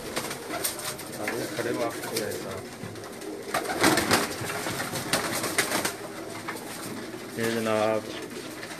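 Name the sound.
pigeons cooing on a rooftop loft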